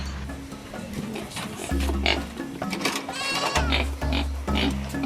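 A pig grunting at a children's home farm, repeated rough grunts and short squealing calls over a steady low hum, fairly loud and close with no clear talk.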